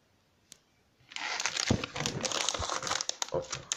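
A paper wrapper holding Lego packs is handled close up, giving a steady stretch of sharp crinkling and rustling after a quiet start with one small tap.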